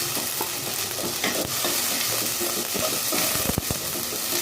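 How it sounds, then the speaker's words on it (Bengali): Ginger and garlic paste fries in a hot pan, a dense close sizzle mixed with busy scraping and stirring strokes, with a few sharper clacks near the end. "আর সাথে আমি দিয়ে দিচ্ছি একটু আদা বাটা, রসুন বাটা দিয়ে আমি ভালো করে ভাজা দিয়ে নিব।"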